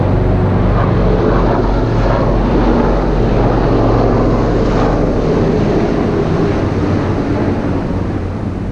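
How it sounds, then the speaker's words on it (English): Several military helicopters pass overhead, a broad low rumbling roar with faint rotor pulsing that holds steady and fairly loud throughout, heard from indoors in a workshop. "As soon as that freaking helicopter goes by"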